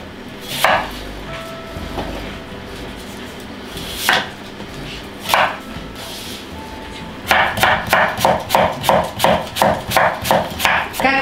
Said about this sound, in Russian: Я сегодня хочу резать все в таком крупнокалиберном, да, размахе.